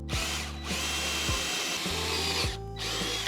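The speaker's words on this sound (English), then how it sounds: "So instead, I'm going to be drilling just a few feet down" A power drill bores a hole into a house wall a few feet down for a security camera cable, whirring loudly up to speed in several close bursts with brief pauses and pitch rises between them.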